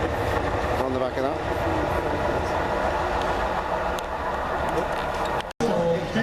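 Tyne and Wear Metro train running on the rails toward the coast near Whitley, a steady loud rumble with rail clatter and squeal, a brief dropout near the end, and voices talking over it.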